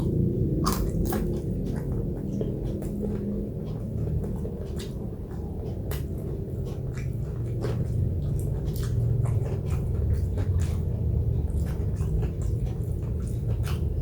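Someone eats tempeh with fried chicken and shrimp-paste sambal close to the microphone, with soft squishy chewing and scattered sharp clicks of biting over a low steady background.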